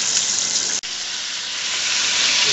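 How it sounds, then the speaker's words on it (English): Loud, continuous hissing sizzle of hot fat in a pot for cooking chicken, close up, with a brief clunk near the start. "when the water burns off, you'll know it because it starts to sizzle"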